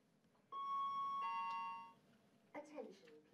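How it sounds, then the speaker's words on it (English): A fire alarm test chime sounds in a building: one sustained electronic two-tone ding lasts about one and a half seconds, then a spoken announcement begins. "The fire alarm is about to be tested."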